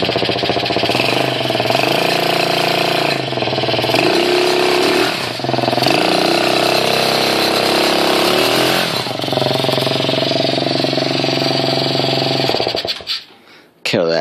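A custom-built X22 pocket bike engine idles and runs steadily up close, loud with a buzzing, rattly drone that shifts slightly in pitch before cutting off near the end; a voice talks over it.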